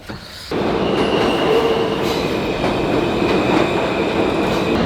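A New York subway train rumbles loudly and steadily along the tracks, with a faint metallic squeal and rhythmic clatter beneath the roar.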